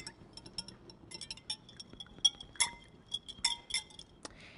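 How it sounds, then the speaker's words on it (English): Quick whisk through an olive oil glaze mixture in a small bowl, bright clinking taps of the whisk against the rim in irregular bursts, close and fairly quiet. "So, now a quick whisk."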